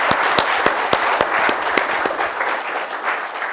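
An audience at an annual lecture breaks into dense, energetic applause, with a few sharp nearby claps standing out over the steady crowd clapping.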